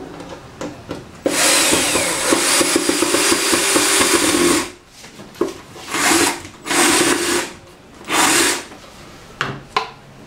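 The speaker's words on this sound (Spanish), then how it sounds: "vamos a proceder a atornillarlo." Power drill driving screws into a wooden bathroom cabinet, one long whirring run followed by several shorter bursts with pauses between, close and loud.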